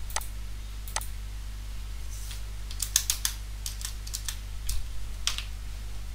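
A computer keyboard is typed on in scattered, uneven clicks and taps over a low steady hum, with no voices.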